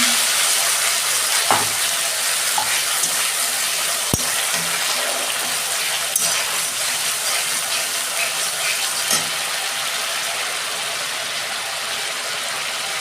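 Ground onion paste frying in hot oil for a tengra fish curry, a continuous close sizzle with occasional sharp clinks and scrapes of a utensil against the pan.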